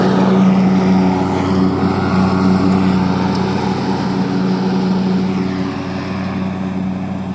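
A farm tractor drives nearby with a loud, steady engine drone and a low, continuous hum that eases slightly toward the end, with no talking over it.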